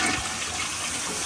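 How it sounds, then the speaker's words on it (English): A toilet flushes during a move-in inspection flush test, a close, steady rush of water that fills the short moment without any talking. "we do a quick flush"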